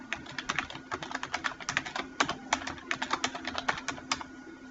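Rapid keystrokes on a computer keyboard while filling in an Excel worksheet, a quick irregular run of close, light clicks with no voices.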